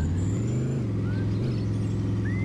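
A car in the mobile game Dude Theft Wars drives along with a steady, loud low engine drone, its pitch shifting slightly as it runs, continuous and close throughout.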